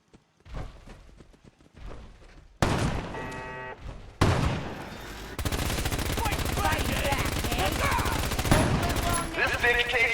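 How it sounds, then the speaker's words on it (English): Rapid sustained firing of a Gatling laser in Fallout 4, a dense continuous stream of loud shots after scattered earlier bursts, with game effects layered throughout and no talk over it. "You're just gonna die of my Gatling laser, mate."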